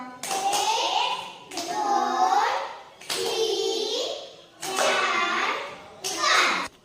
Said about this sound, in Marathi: पाच टाळ्या वाजून दाखवा